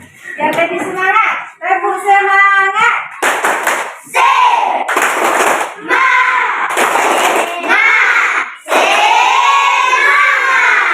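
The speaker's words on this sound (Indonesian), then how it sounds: "Biar lebih semangat, tepuk semangat." Schoolchildren in a classroom chant and clap together in a rhythmic 'tepuk semangat' cheer, loud and close, with bursts of shouted voices between the clap patterns throughout.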